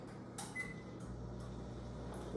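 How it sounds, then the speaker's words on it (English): A microwave oven hums low and steady at a quiet level while melting an ingredient for a corn soufflé, with a few soft clicks and a short faint tone. "Go ahead and stick it in your microwave."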